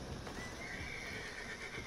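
A horse whinnies in the Red Dead Redemption 2 Online game, a loud, sustained neigh over a steady background with no talking.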